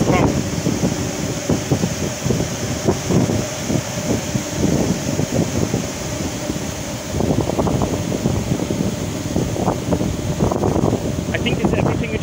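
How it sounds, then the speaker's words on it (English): Cooling water pouring down and strong wind at LHC Point 1, the ATLAS site at CERN: a steady, loud rush of falling water and gusting wind, with a person talking over it. "So you can see now a lot of water coming down, and it's quite noisy, in addition to the wind, which is also currently quite strong."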